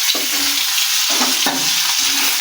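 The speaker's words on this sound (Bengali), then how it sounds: "ডিমগুলো আমি ভেজে নিচ্ছি" Boiled eggs fry in hot oil in a wok, a loud, continuous close sizzle with a couple of soft stirring knocks, and no voices.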